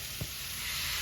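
Broccoli hits a hot pan in a shrimp and vegetable rice sauté, raising a steady, loud hissing sizzle with a brief soft thump as it lands, and no one talking.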